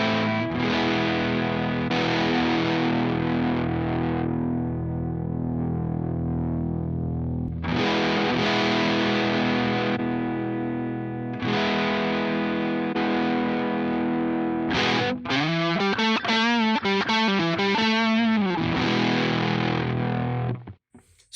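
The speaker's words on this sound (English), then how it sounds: "even setting it up like you would a traditional tube screamer, say, it still has quite a bit of distortion there" Electric guitar through a Blackstar Jared James Nichols overdrive plugin, set up like a classic Tube Screamer with gain, treble and output controls, playing loud sustained distorted chords and then a fast run of bending single notes, with no talk.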